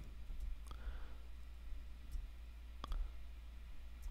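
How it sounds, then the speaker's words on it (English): A computer mouse clicking faintly a few times at irregular intervals over a low steady hum, with no voices. "let's click on this"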